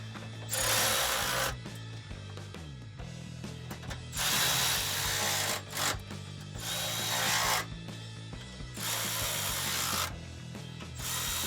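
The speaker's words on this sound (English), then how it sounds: "Having a flex head ratchet for these upper two" Flex-head ratchet tightening bumper bolts on a 2007–2016 Chevrolet Silverado 1500, loud close bursts of rapid clicking ratcheting in four long runs separated by brief pauses, no talking.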